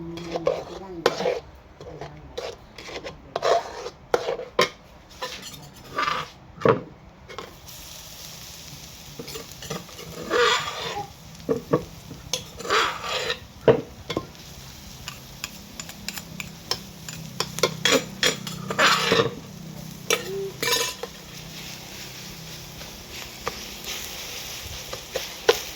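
Sugar caramelizing in a pan while being stirred, with a soft background sizzle under repeated scraping and clanking of a utensil against the pan, close and continuing throughout.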